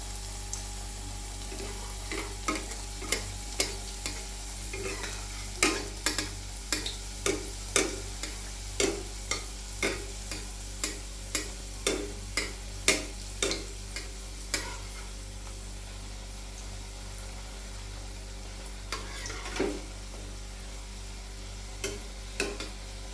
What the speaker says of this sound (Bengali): মিডিয়াম ফ্লেমে আমি এটা ভেজে নেব দুটো দুটো করে দিয়ে ভাজবো